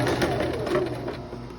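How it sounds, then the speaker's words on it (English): A sewing machine runs continuously up close, stitching a short three-inch dress seam with a steady rapid needle chatter and motor hum, no one talking. "And I'm just sewing those 3 inches."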